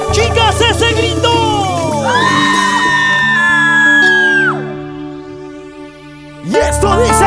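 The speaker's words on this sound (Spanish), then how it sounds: "¡Chicas, ese grito!" Young women in a Lima concert crowd scream and whoop loudly in sustained, rising shrieks over live music, fading briefly before a fresh burst of cheering erupts.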